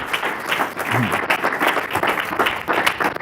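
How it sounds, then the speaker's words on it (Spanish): A church congregation claps loudly in worship, a dense uneven roar of many hands with rhythmic surges, joined by scattered voices and cheering. "Tú le volviera a dar otro aplauso fuerte a Jesús"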